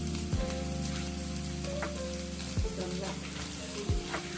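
Capsicum, carrot and beans fry in a hot pan with a continuous bright sizzle, close and steady, under a low electrical hum, with a few faint clinks.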